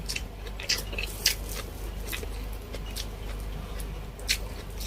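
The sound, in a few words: eating chicken adobo and crispy lumpia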